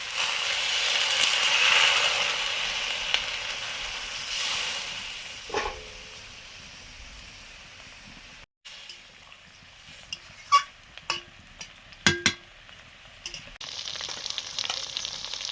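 Fried potatoes in a pan sizzle loudly and steadily as water hits the hot oil, then the hiss fades and a few sharp clinks and scrapes follow, with a renewed sizzle at the end.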